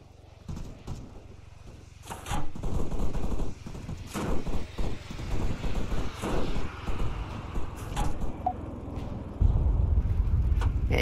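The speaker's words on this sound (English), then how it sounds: "Somebody tried shooting me through the wall." Gunshots fired through a wall in the video game King of the Hill, a ragged run of sharp cracks and bursts at mid distance, some clustered in quick volleys, over low rumbling game ambience with no talk.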